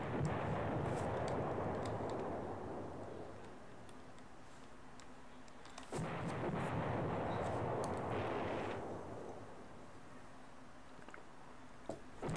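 Artillery bombardment in the Command Ops 2 wargame, two long rumbling barrages of distant booms with scattered sharp ticks, each swell fading before the next begins, no talk over it.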